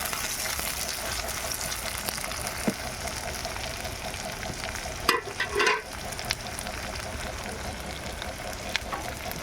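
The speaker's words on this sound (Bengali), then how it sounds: "তো আমি পেঁয়াজ কুচিটা দিয়ে দিলাম।" Chopped onion hisses and crackles in a frying pan, a steady close sizzle with a brief clatter of stirring midway, no speech.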